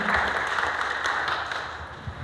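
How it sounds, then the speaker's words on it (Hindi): Applause for a man named Abdul Kalam at a workplace Safety Day program, a steady wash of clapping from the audience filling the whole stretch at moderate level. "अब्दुल कलाम भाई के लिए जोरदार ताली एक बार"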